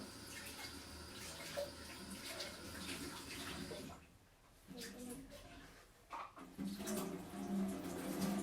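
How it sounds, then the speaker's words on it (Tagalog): Water runs from a tap to fill a new Delta coffee machine, a broad hiss that breaks off briefly midway and then resumes, with faint household noise around it. "Lagyan ko siya ng tubig."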